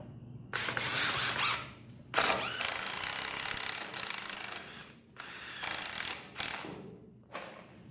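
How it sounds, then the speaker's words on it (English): A power drill drives three screws into a wooden pallet table: several close, whirring bursts with short pauses between them and a ratcheting edge as each screw seats. "There's I'm gonna put three screws in here."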